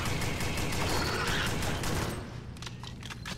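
Dense, rapid gunfire from the video game Alien Swarm, a loud sustained barrage of overlapping shots that thins out toward the end into a few sparser bursts.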